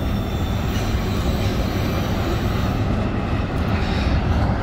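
A CN freight train rolls west through the Pointe-Saint-Charles railyard in Montreal, giving a loud, steady, close rumble and clatter of wheels on rails that fills the whole stretch without pause.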